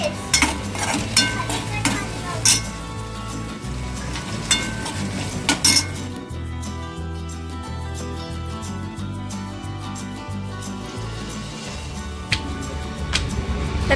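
Bell pepper vegetable dish being cooked in a pan: spoon stirring and scraping against metal over a steady sizzle, with a few sharp clinks of utensil on pan and no voices.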